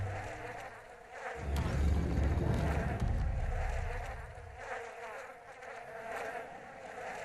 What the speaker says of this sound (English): You can hear the flies buzzing too.